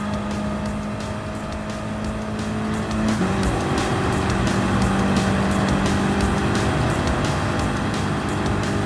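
Race cars in a video game tear down the start-finish straight at Monza with a loud, steady engine drone. A pitch jump about a third of the way in marks an upshift, and the engine then holds a high whine under a gritty roar.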